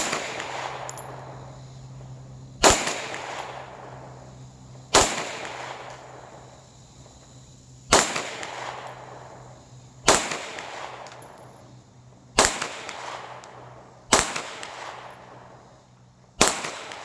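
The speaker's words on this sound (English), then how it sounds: "Ten shots. Slide locked, gun on safety" SPS Pantera pistol fired at a shooting range, with sharp single shots spaced about two seconds apart and ringing decays between them, close and loud with no talking.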